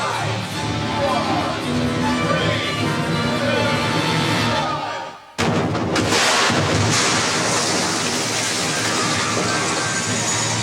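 Pyrotechnic explosives go off on the film set of Die Hard With A Vengeance: a loud, broad roar cuts out for a moment, then a sudden heavy blast bursts in and rumbles on, loud and close.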